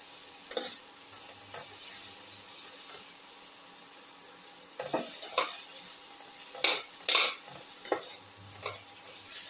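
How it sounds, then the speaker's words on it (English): Onions with ginger and tomato sautéing in a pan give a steady low sizzle, while a spoon stirs and scrapes the metal in irregular bursts; the clinks cluster late, with no talking. "Keep on sauteing until the onions lose their pinkish color and become golden brown."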